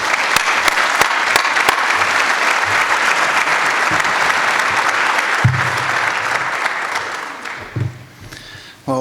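An indoor audience applauds warmly to welcome a speaker to the stage at a morning event, steady loud clapping that holds for several seconds before thinning out and fading near the end.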